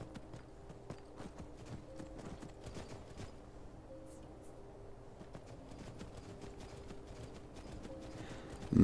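Horse hooves clip-clopping at a steady walking rhythm in Skyrim Special Edition, modded, moderately quiet over ambient game background, continuing throughout with a louder burst at the very end.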